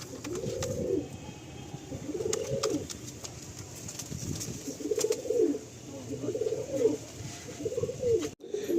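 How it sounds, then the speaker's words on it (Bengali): Domestic pigeons at a pigeon sale in Sonarpur, including a female, give soft, throaty coos in about five rolling phrases spaced a second or so apart, close by over a low background hum. "দেখুন এর পায়রাটা মাদি পায়রা"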